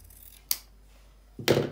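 Scissors trim the fabric of a sewn peplum band on a pinafore blouse, two separate snips, the second longer and louder, close and alone in a quiet room.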